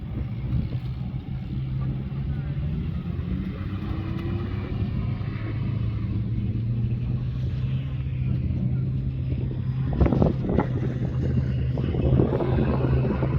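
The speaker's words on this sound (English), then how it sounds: "Oh, there's Matt running the little diesel." A small diesel engine runs steadily with a low droning hum that swells slightly near the end, a little rumble and some clatter heard over outdoor background noise.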